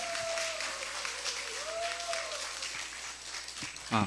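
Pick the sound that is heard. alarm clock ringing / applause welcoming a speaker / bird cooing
applause welcoming a speaker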